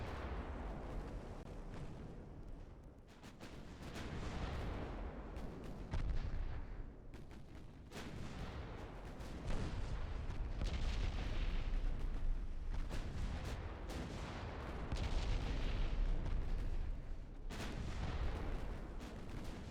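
Warship guns fire in Ultimate Admiral Dreadnoughts during a 1913 French campaign battle, repeated deep booming salvos and sharp reports over a constant rumble of naval combat, moderately distant and without talk.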